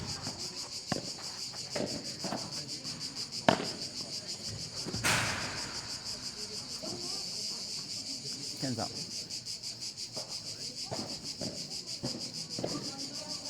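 Cicadas in Provence keep up a steady, dense buzzing drone throughout, with scattered clicks and thuds from a padel match nearby and occasional faint background voices.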